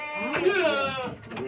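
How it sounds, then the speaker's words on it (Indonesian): PE goats on a goat farm bleat in wavering, nasal calls across the short stretch, fairly close and loud, with people talking nearby. "Kita lihat ini kambingnya. Kambing PE semua ini."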